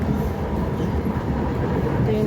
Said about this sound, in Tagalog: Ito yung train.